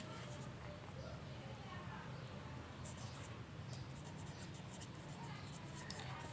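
Pen scratching steadily across paper during a math lesson on calculating ushr, with brief faint scraping strokes over a continuous low room hum.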